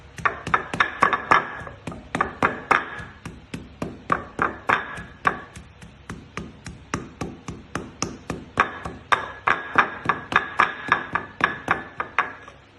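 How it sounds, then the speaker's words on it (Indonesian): Shredded pindang tongkol tuna pounded in a mortar, a steady run of sharp, hard thuds repeating about three times a second, close and loud with no talk. "Kita akan tumbuk sedikit demi sedikit ya."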